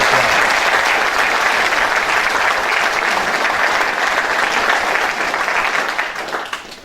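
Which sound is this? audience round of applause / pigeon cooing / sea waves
audience round of applause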